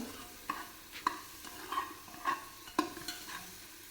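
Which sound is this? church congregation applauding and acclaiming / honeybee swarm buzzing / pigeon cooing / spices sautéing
spices sautéing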